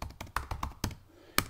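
Several crisp taps on a computer keyboard while entering a device description, close and fairly quiet, in short irregular bursts with a brief pause.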